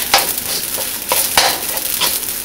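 Garlic fried rice is stirred in a hot pan, a loud close sizzle broken by several sharp scraping strokes of a spatula at uneven intervals, with no voices.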